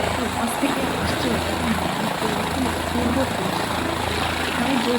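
A helicopter approaches from the side over the snowy Kedarnath mountain route, its rotor drone steady and moderately loud for the whole stretch, with a voice talking over it.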